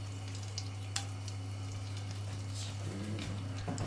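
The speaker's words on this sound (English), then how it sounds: "I'm just going to add these curry leaves at the moment and let them fry for a few minutes." Curry leaves frying in a hot pan over medium-high heat make a soft, steady sizzle with a few small pops and crackles, alongside a constant low hum, and nobody speaks.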